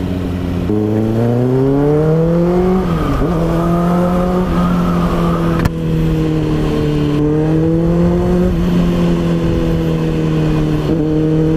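Kawasaki ZX6R motorcycle engine droning steadily while riding, loud and close with wind rush, pitch climbing and easing through gear changes.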